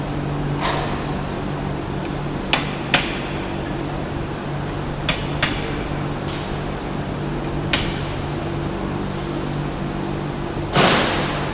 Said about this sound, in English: I'm gonna pull it back out, give it a couple more whacks.